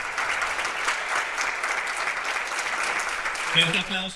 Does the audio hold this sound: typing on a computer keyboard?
no